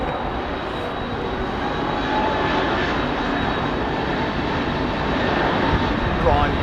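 Jet aircraft engines at London Heathrow Airport give a steady, broad roar that swells slightly toward the end, with a voice talking over it.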